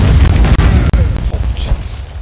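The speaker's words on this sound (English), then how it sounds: "Oh shit, there's bombs near the door." Explosions from bombs set near a door during a raid in the video game Conan Exiles, a dense run of heavy booms and bursts with several sharp hits in quick succession, loud with a voice faintly underneath.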